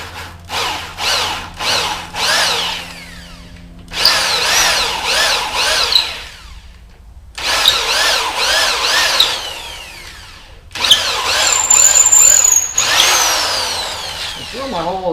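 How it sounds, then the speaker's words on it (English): A handheld power drill bores a hole into a wooden spear shaft for a DIY throwing spear. It runs in short bursts at first, then in longer whining stretches with rising and falling pitch, loud and close, stopping between runs. "Drill my hole as deep as I can."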